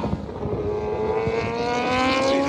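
A V4 four-cylinder superbike races down the straightaway at a track, its engine note building and rising in pitch as it approaches, loud and continuous with no talk.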